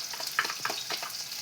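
Spices sizzle and crackle steadily in a hot pan on an organic stove, a close, continuous frying hiss with small pops and no talking.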